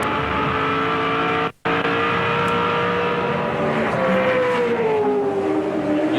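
A 2007 V8 Supercar race car drives at Phillip Island, its engine roaring loud and sustained through the corners. There is a brief dropout as the driver short-shifts, then the pitch climbs steadily under acceleration.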